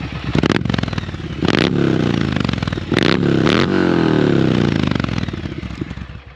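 A motorcycle engine revved hard several times as the throttle opens, loud and close with sharp rising and falling pitch sweeps between bursts, over a continuous clattering idle and no talk.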